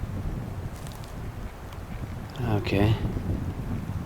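Wind gusting outdoors in a wooded bush area, a low rumbling buffeting against the microphone throughout, with a brief spoken word partway through.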